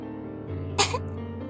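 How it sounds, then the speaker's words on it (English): A single short cough rings out once against a quiet, steady background hum, with nothing else happening around it. "some pony coughed"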